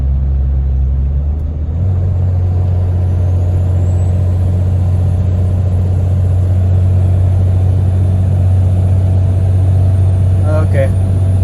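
A Cummins diesel pickup towing a large fifth-wheel trailer uphill gives off a loud, steady engine drone heard from the cab. The tone steps up early as the transmission downshifts, then holds at an even cruise.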